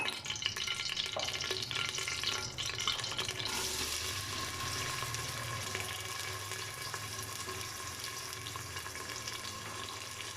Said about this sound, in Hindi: अब इसके अंदर मैं प्याज ऐड कर दूंगी।